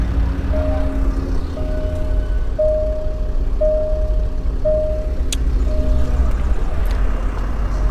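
A 2015 Range Rover Sport's air suspension compressor runs steadily as the car rises to high ride height, a continuous low mechanical hum with a faint intermittent whine, heard close and unbroken.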